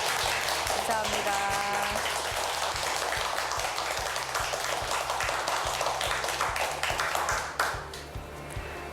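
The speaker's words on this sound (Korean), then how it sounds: "오늘 좋은 강의해 주신 이종수 교수님께 다시 한번 큰 박수 부탁드립니다" A lecture audience claps for a professor, a dense spread of hand claps sustained for several seconds before thinning out, with background noise of the hall underneath.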